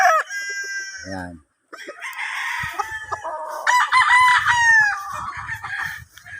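Fighting-cock stags on a farm crow loudly in drawn-out calls, overlapping with clucks and other rooster crows throughout, with a brief gap of quiet midway.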